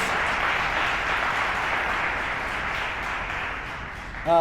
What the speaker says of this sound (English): So how about a round of applause for Eileen?